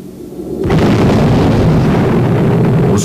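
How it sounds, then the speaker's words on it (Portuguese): A 1949 Soviet atomic bomb test explosion erupts as a sudden, massive roar that swells and holds as a loud, sustained rumbling boom. "os russos realizaram com sucesso um teste com uma bomba atômica"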